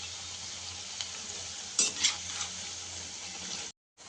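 Onion pakodi sizzles in hot oil, a steady soft frying hiss with a few sharp stirring clinks partway through before it cuts off.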